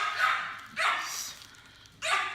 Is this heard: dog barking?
yes